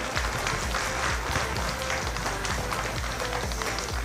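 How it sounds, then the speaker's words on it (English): An audience at a school history bee claps for the contestants, a dense, steady patter of many hands filling the room with no voices on top. "one more round of applause for all these brave contestants today."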